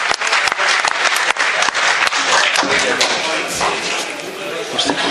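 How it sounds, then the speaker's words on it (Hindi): Loud, sustained applause from an audience at a Hindi kavi sammelan poetry gathering, dense rapid clapping from many hands filling the hall without a break. "जोरदार तालियों से इस्तकबाल कीजिए।"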